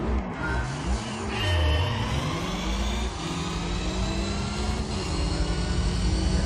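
Gran Turismo 3 race car at Laguna Seca, engine revving hard and climbing through the gears with a loud, continuous whine that swoops up and down before settling into a steady high drone.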